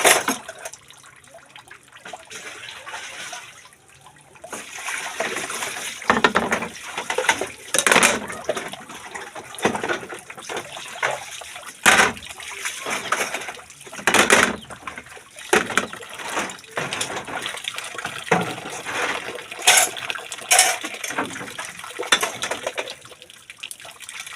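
Running tap water splashing over dishes as they are washed, with intermittent trickles, clinks and bursts of flow close by, with a faint voice at times.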